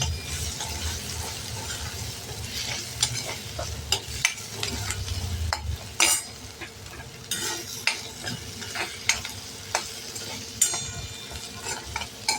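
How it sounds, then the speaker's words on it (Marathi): Chopped tomatoes and curry leaves sauté in a pan for a bottle gourd dal, a low steady sizzle under repeated scraping clicks of a spoon stirring against the pan, fairly quiet and close. "टोमॅटोचे बारीक तुकडे केलेले ते घालणार आहोत. कढीपत्ता घालायचा आहे आणि छान परतून घ्यायचं."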